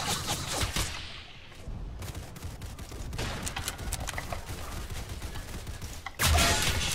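Dense, loud gunfire in the Entrenched war video game, with rapid overlapping shots and bursts rattling almost continuously and one heavy blast near the end.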